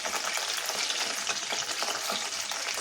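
Chopped garlic fries in oil in a pan for a spicy mushroom chilli, a dense continuous close sizzle with constant crackling and stirring scrapes throughout.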